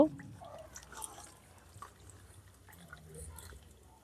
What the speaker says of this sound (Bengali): ভালো করে ধুয়ে নিয়ে এসে রেখেছিলাম, তবু আরেকবার ধুয়ে নিচ্ছি।